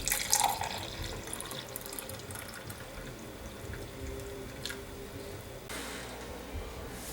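Water from a tap runs softly into a container for chokecherry juice, a faint, steady trickle with a few brighter splashes near the start and end.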